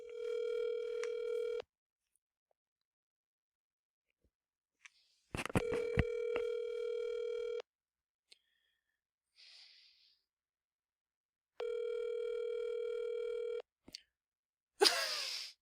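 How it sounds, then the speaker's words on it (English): A phone line rings out three times, each long electronic tone separated by silence, with a short click and rustle between rings and a brief burst of noise at the end. "I'm calling Kat right now."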